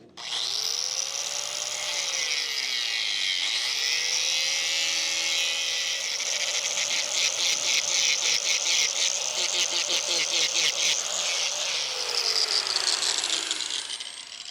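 Loud, close power grinder stripping paint and filler from an aluminium boat hull, a high-pitched whine with pitch dips as the disc loads and frees, plus rhythmic chattering bursts as it bites the surface.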